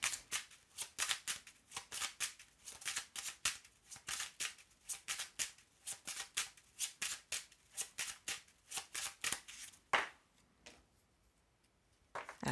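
Oracle cards are shuffled by hand in quick repeated riffling bursts, a close crisp rhythmic flutter of card edges that runs steadily before stopping near the end.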